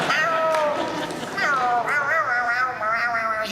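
Voice actor's imitation of Gary the snail from SpongeBob, a series of whiny, wavering meows delivered close and loud at a convention panel.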